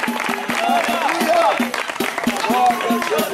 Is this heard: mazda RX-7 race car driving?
no